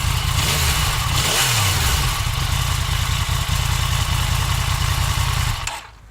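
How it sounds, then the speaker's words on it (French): A Yamaha MT-10 motorcycle engine with stock exhaust roars and revs loudly up close, pitch rising and falling with throttle blips, then cuts off abruptly near the end. "avoir un son venant d'un pot complètement d'origine avec une bécane comme ça"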